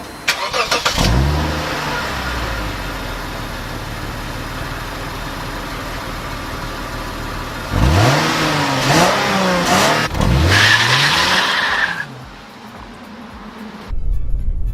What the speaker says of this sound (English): I think the V6 really sounds good too.